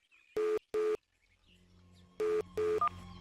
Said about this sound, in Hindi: अच्छा ठहरो, मैं तुम्हारे को अभी फोन कर रहा हूँ।